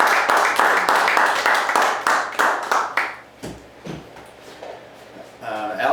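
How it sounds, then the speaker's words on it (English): A small audience gives a round of applause for a research team member, a burst of fairly close hand claps that thins out to a few scattered claps before fading. "let's give a nice round of applause"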